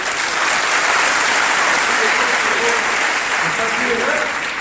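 Boys in a school crowd clap together, a steady dense wash of applause that holds loud and even from start to finish.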